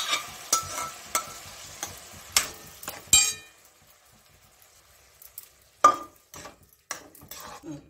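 Cooked spinach and lentils are stirred into frying onions with turmeric, heard as a series of spoon knocks and clinks against the pot with a faint sizzle, then a quiet pause before more scraping.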